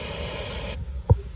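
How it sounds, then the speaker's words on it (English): Brake parts cleaner sprays from an aerosol can in a loud, steady hiss that runs for under a second and cuts off sharply, followed by a soft thump. "spray some brake parts cleaner on it"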